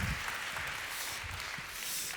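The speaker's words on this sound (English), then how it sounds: "please be upstanding and give an incredible warm round of applause to Justin Cooke" Faint, steady audience applause in a conference hall in Vilnius as a speaker is welcomed to the stage, distant and even throughout.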